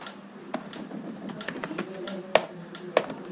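Keystrokes on a computer keyboard while entering a switch configuration command, a scattered run of light clicks with two sharper, louder taps near the end, close by with no talk.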